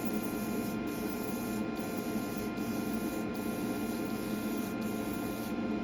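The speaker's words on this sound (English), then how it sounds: "I'm going to get my airbrush adjusted here and" Airbrush spraying paint onto a scale model, a continuous close hiss that holds steady throughout with brief regular breaks in its texture, no voices.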